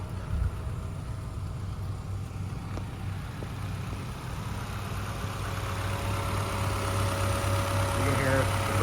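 A cold 1998 Honda Civic EK4 hatchback with a 1.6L B16A2 VTEC engine idles smoothly, a steady low hum that holds even and unrevved throughout.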